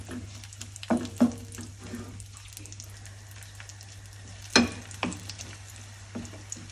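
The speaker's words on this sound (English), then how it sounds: "fry the raisins a bit. So this will actually cook and it will actually grow in size." Raisins fried in a pan: a steady low sizzle runs throughout, with a few sharp clicks and scrapes of stirring, loudest near the start and middle, close and moderately quiet.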